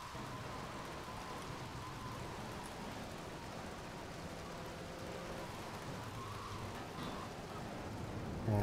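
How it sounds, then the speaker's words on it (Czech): Rain falling in the video game GTA III, a steady, faint hiss of downpour that holds evenly for about nine seconds with no other clear sounds. "On začíná víc a víc pršet."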